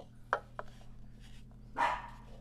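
Puppies give a couple of short, sharp barks close by, followed by a longer yip, in an otherwise quiet indoor room.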